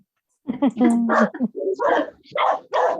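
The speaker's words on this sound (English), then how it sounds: "thought that was my dog for a minute" A dog barks in a run of loud, close yaps and yelps with a couple of whimpering notes, several sharp bursts over about two and a half seconds in a quiet room.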